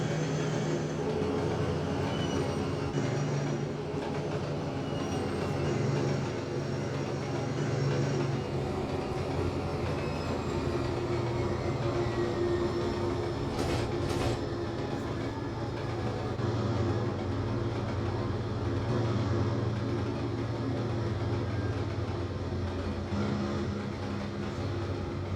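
A BR Class 43 HST power car diesel engine in the Trainz 22 railway game winds down with a steady, fairly loud mechanical drone and rumble that holds for a long stretch, with no talk over it.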